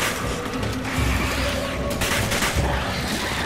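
Rapid bursts of gunfire from the video game Resident Evil 5, dense and steady across the moment with heavy low-end booms and sharp crackling peaks, no voices over it.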